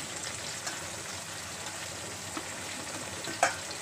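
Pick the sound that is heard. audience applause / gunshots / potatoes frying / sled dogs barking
potatoes frying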